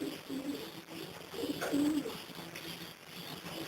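A racing pigeon coos softly nearby, with a few low, rolling coos in quick succession over quiet room ambience.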